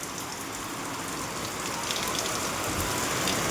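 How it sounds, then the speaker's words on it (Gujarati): Steady rain falls over a village, a dense, even hiss of drops on surfaces, soft and continuous with no voices. "સારામાં સારો વરસાદ અત્યારે આવી ગયો છે"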